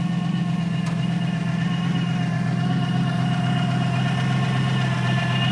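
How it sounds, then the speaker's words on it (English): A 1963 Chevrolet Nova convertible with a 350 V8 idles with a steady low exhaust rumble, even and continuous, with no talking. "Great sounding exhaust."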